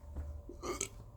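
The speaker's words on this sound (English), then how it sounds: "Burp." One short, close burp rumbles out, followed by a faint bit of breath, with quiet background otherwise.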